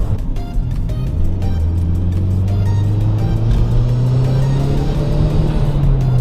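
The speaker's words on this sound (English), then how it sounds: "Every single time you just hear that blow off valve, and that's a stock blow off valve that's on this too." Turbocharged car with a stock blow-off valve, heard from inside while driving under light throttle: a steady loud engine drone that rises gradually in pitch, with road rumble throughout and no talk.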